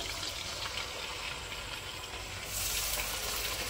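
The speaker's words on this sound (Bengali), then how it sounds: "এবার চিকেনটা ভেজে নেব, মানে হালকার উপরে ভাজতে হয়।" Marinated chicken pieces for chilli chicken fry in hot oil with a loud, continuous crackling sizzle that grows a little stronger toward the end, close to the microphone and with no voices.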